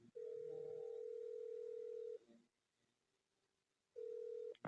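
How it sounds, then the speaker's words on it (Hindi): A steady mobile phone dial tone hums for about two seconds, stops, then returns briefly after a short quiet gap. "अपने मोबाइल से किसी को फोन करने लग जाता है।"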